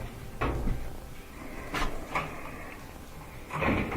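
Frigidaire dryer drum and belt spun by hand after refitting, giving a soft rumbling roll with a few light knocks and clunks, close and fairly quiet.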